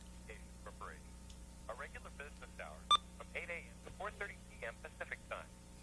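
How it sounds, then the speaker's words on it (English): A telephone number is dialed as a quick series of short DTMF tone beeps at irregular spacing. The tones run over a faint steady hum, with one louder beep near the middle. "So we're going to phone up Bible Man here and see if he's going to come to Canada."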